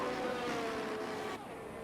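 A McLaren Formula 1 car in F1 22 at a Saudi Arabia race, its engine a steady high-pitched whine at moderate distance that drops in tone near the end, with no talking.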